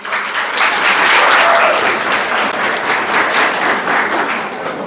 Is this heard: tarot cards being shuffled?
no